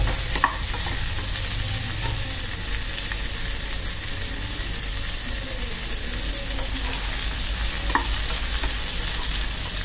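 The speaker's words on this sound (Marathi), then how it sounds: "त्याला छान मीडियम टू हाय गॅसवर आपण फ्राय करून घेऊ." Bitter gourd frying in oil over a medium-high gas flame, a constant loud sizzle with occasional spatula scrapes and clicks while being stirred, close up and without speech.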